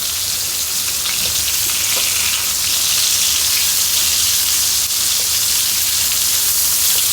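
Hilsa fish pieces fry in hot oil, a loud, dense, unbroken sizzle like heavy rain, steady throughout with no voices.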